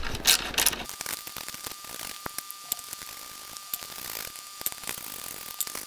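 Screws coming out of a Begode EX.N electric unicycle, close clicking ratchet-like taps and small metallic turns, a scatter of sharp ticks over a faint hiss after a brief louder rustle at the start.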